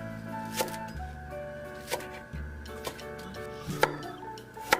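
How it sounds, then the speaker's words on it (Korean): A knife chops radish into matchsticks and cuts water dropwort and scallions on a board for a Korean oyster side dish, giving a few sparse, sharp taps about a second apart beneath steady background music. "무는 채를 썰고 미나리는 무채 길이와 비슷한 길이로 썰어주며 쪽파는 뿌리 부분에 칼집을 준 후 미나리와 같은 길이로 썰어줍니다."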